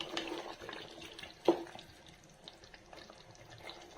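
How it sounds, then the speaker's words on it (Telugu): Water poured into a cooking pot of cooked chicken for biryani, a soft running splash with one sharper splash in the middle, set against low kitchen background noise. "ఇప్పుడు వాటర్ పోస్తున్నాను."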